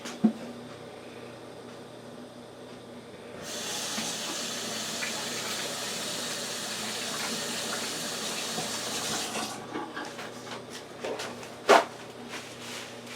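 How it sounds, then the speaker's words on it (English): Running tap water gushes steadily into a kitchen sink for several seconds as hands are washed after handling salmon, then the flow cuts off and a sharp clack follows. "Let me wash my hands."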